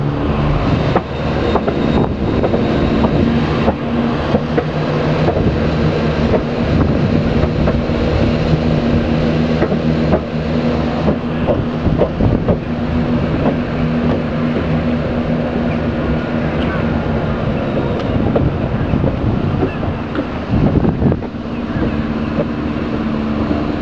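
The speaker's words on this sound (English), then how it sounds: "Here are the turbo stars departing Rye." Turbostar diesel trains pull away from Rye station, a passing place on the line, with a steady, loud engine rumble and drone lasting throughout, heard nearby amid outdoor ambience.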